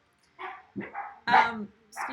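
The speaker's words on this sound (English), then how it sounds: "Sorry about my dogs." Several dogs bark in short, sharp bursts, four barks spaced across two seconds, fairly close and clear indoors at home.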